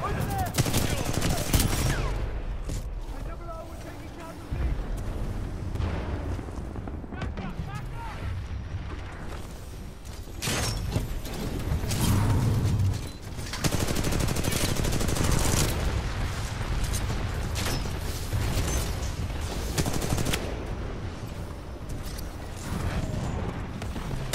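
Rapid bursts of tank gunfire and explosions from a combat video game crackle in repeated volleys over a dense, loud background, with people talking over the action.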